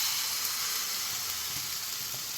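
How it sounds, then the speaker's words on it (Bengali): Batter poured into a hot pan for a healthy vegetarian snack, giving a soft, steady close-up sizzle that holds evenly throughout with no talk. "এবারে আমি শুধু ব্যাটারটা দিয়ে দেব"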